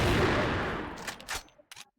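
Rapid gunfire from a competitive Filipino online shooter match at a cyber cafe, a dense loud fusillade that fades out over about a second and a half, followed by a few faint sharp clicks.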